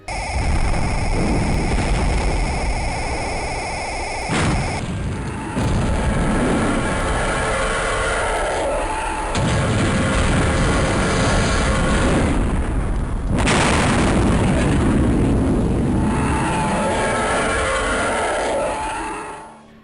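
A space station blows apart in a Star Wars game on the Sony PlayStation, heard as roaring, rumbling explosion noise lasting about twenty seconds with crashing bursts and shifting debris textures and no voices.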